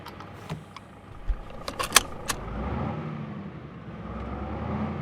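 DAF XF Euro 6 truck engine in Euro Truck Simulator 2 cranking and turning over, a few sharp clicks and rattles followed by a low rumbling idle that settles in steadily, with no talk.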